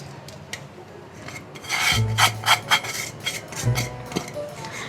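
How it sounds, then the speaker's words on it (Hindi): Coarsely ground spice masala worked into carrots for pickle, with repeated scraping and rubbing strokes of a spoon against a bowl, loud and close, coming in uneven bursts with no talk. "अब हम इस मसाले को पूरे को इस गाजरों में मिला देंगे।"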